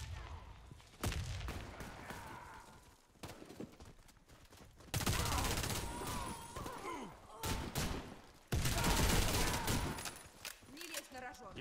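A grenade blast and bursts of gunfire in the shooter video game Warface come as heavy, close booms and rapid rattling volleys, separated by short quieter gaps.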